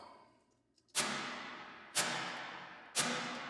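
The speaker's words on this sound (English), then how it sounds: "That's the sound of a chamber." Three sharp percussive hits through a chamber reverb, each followed by a long, smooth reverberant tail that decays into the next, spaced about a second apart.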